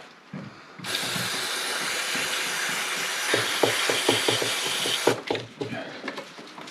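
CRC QD electronic contact cleaner hisses steadily from a spray can into a Subaru connector for several seconds, close and loud, with light clicking around it and then stopping abruptly.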